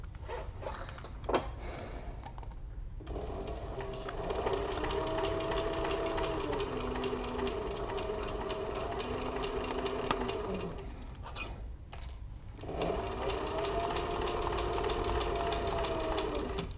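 A sewing machine stitches a crossbody bag in long steady runs, its motor humming and needle chattering close up, pausing briefly around the three- and twelve-second marks before carrying on.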